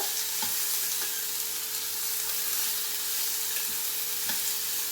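Capsicum, peas and other vegetables for vermicelli upma frying and sizzling in a pan, with a steady hiss broken by regular scrapes and clicks of a spatula as they are stirred, close up and without talk.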